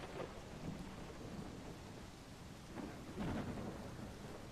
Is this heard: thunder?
yes